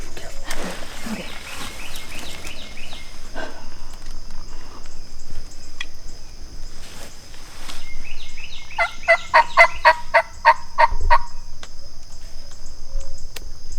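Osceola wild turkey gobblers gobbling nearby in the field on opening day, with repeated rattling gobble bursts building up and loud in the later half over steady insect chirring.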